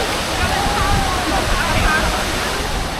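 Tumpak Sewu waterfall roars in a steady, dense rush of falling water close by, with faint voices under it.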